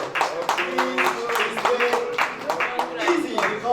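Audience at a bankers' dinner claps steadily through the whole stretch, the applause loud and close and mixed with voices and a musical tone.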